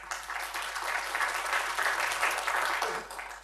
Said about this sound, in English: Thanks for the claps.